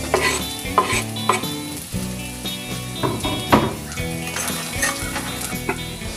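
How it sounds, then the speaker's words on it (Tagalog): Garlic sautés in rendered pork belly fat in a pan, with a steady sizzle and frying crackle throughout and repeated stirring scrapes and clinks of a utensil against the pan. "Okay, magigisa na tayo ng bawang."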